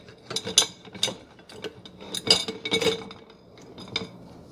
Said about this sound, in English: Going to give it some good whisks.